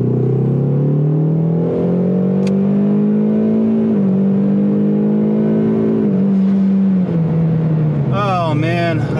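A tuned Ford Mustang EcoBoost on a 93 octane tune accelerates hard along a road, its engine droning loudly and steadily climbing in pitch through gear changes, with a voice briefly near the end.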